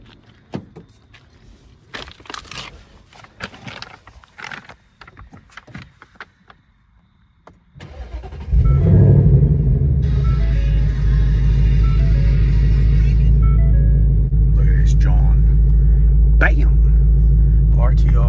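A 2025 Ford Mustang GT RTR Spec 3 V8 cranks and fires up after handling and door noises, then settles into a loud, steady, deep rumbling idle close by.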